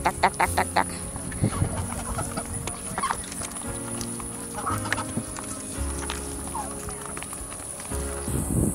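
Plump chickens on a farm pasture clucking in short bursts close by, mixed with scattered knocks and other barnyard noise, while a person talks intermittently over them.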